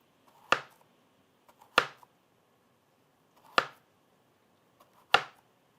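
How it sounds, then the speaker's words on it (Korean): A knife slices through a Korean melon (chamoe) in four crisp, evenly spaced cuts, each a sharp close thud against the board with faint quiet between strokes. "그 참외를 자를 때 막 이리저리 도망가게 냅두면 안 되고 이 모양 그대로 잘라야 예쁘거든요"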